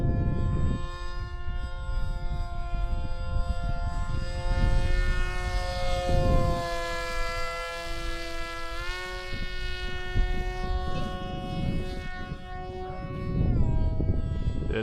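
A foam board Vulcan RC plane's electric motor whines steadily at about half throttle in flight, its pitch rising and falling as the plane passes, fairly loud throughout.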